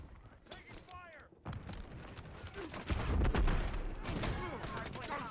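Gunfire in Call of Duty Modern Warfare III, a continuous chaotic mix of rapid shots and bursts with a deep boom partway through, heard under shouted in-game voice callouts.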